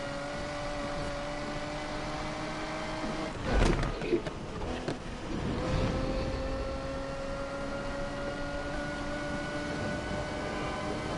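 A car in Need for Speed Unbound gives a steady tonal engine whine that holds fairly level, with a burst of louder revving and mechanical noise near the middle before the whine resumes.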